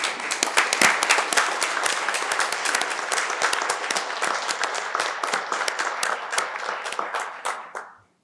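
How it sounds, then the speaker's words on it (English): An audience at a Columbus, Georgia city council meeting bursts into sustained, dense applause that fills the room for about eight seconds before tapering off and stopping abruptly. "Let's give her a round of applause."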